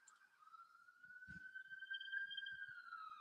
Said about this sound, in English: oh, sorry, there's ambulance outside.